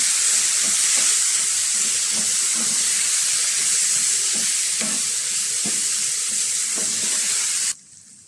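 Tomatoes fry loudly in an open pan for a crab roast, a constant close sizzle and hiss with faint stirring taps, cutting off abruptly near the end; no speech.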